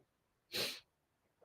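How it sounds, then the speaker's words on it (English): A single sharp sneeze bursts out close by, brief and loud, with a faint breath just after in otherwise quiet surroundings. "I think I've got a sneeze coming. Here it comes."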